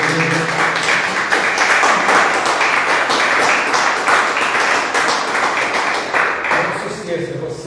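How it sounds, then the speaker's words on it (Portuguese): Church congregation clapping in a dense, sustained round of applause that fades slightly at the end, with voices mixed in under the clapping. "Vamos aplaudir o Senhor Jesus."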